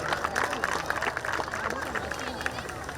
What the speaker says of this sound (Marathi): संचयसाठी एकदा जोरदार टाळ्या होऊन जाऊ द्या.